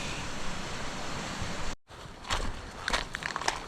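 Big waves wash near the shore in a windy northeast monsoon, a steady broadband surf roar with a brief dropout and a few sharper splashes toward the end, heard from a small boat.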